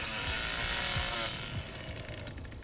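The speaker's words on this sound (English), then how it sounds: "His chainsaw is overheating." A chainsaw in The Texas Chainsaw Massacre video game overheats, its engine buzzing raggedly and sputtering before fading somewhat, heard at moderate distance without voices.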